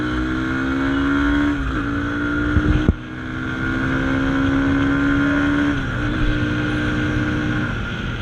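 Yamaha FZ25 motorcycle engine running loud and close, with a steady drone that dips briefly near three seconds and again near six before settling back, plus some wind buffeting.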